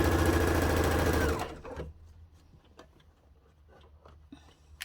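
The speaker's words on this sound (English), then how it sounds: "if you find that easier to sew. But don't sew over the pin." A sewing machine stitches a cathedral window quilt panel in a fast, loud, even whir up close, then stops after about a second and a half, leaving faint handling clicks and rustles.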